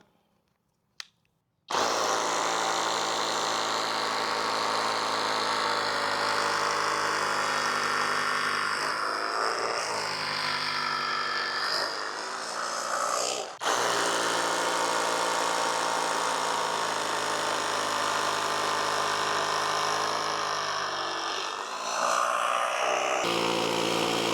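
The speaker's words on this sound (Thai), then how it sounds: "ก็ปรับไปโมเจาะกระแทกตรงนี้นะครับ" A MASARU SCDR-170 rotary hammer drill in hammer-drill mode bores into a concrete floor with a loud, continuous buzzing hammer, briefly easing once midway before grinding on steadily.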